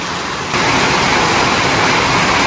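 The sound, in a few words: heavy rain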